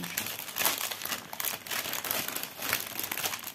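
Stamped cross-stitch canvas is creased and smoothed with a fingernail, producing close, dry crinkling and rustling in repeated rubbing bursts. There is no talking.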